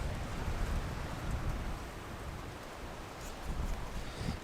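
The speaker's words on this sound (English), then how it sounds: "It is super windy, and down through here, it's like a freaking wind tunnel." Strong wind roars steadily through a narrow sandy passage at Arches National Park in Utah, a dense continuous rush with slight gusty swells and no speech.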